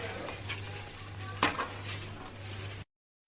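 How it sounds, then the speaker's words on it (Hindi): A spoon stirs chicken karahi in a cooking pot, a Cholistani-style dish, with soft scraping and gentle sizzling. One sharper metallic clink from the spoon against the pot rises out of the close, steady kitchen sound before it cuts off. "अब हमने इसको 3 से 4 मिनट तक ऐसे ही चम्मच हिलाना है और पकाना है।"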